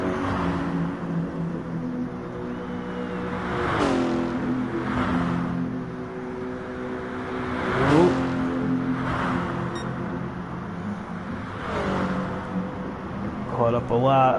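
Race car engine droning and rising in pitch as it accelerates through gear changes in a racing game, a steady harmonic whine with repeated upshifts, heard under continuous commentator talk.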